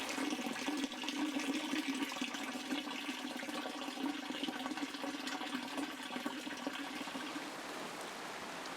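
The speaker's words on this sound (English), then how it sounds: "a very welcoming heavy thundery shower, enough to fill up our water butts." Heavy rain from a thundery shower pours down in a steady, dense hiss, loud and continuous throughout, with no voices.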